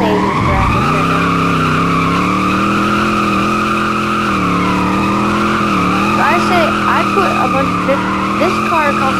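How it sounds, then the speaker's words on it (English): Tires skid and squeal continuously as a car drifts in a PS5 racing game, a steady engine drone with wavering squeal tones running loud and close throughout, with brief chirps near the end. "we're just going to do a little drifting"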